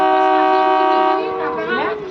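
A train starts at a tiny station inside the Gir forest after the green flag is waved. A long, steady horn sounds loud and close, then fades into rumbling and mechanical noise as the train begins to move.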